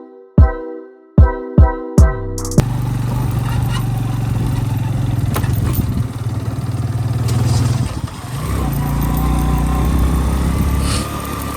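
A heavy motorcycle engine drones steadily and close while riding along a mountain road, following a few sharp, ringing tones at the start, with slight swells in pitch and volume as the bike moves on.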